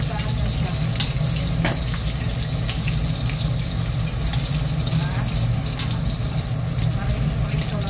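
Steady sizzling from pork belly frying in a pan, a constant crackling hiss with occasional sharp pops, fairly loud and close.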